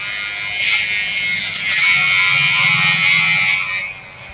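Electric hair clipper giving a police-style haircut, a loud close buzzing motor that rises in pitch as it bites into hair, then cuts off near the end.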